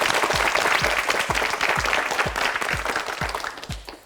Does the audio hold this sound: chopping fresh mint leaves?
no